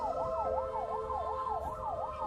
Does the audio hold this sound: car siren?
yes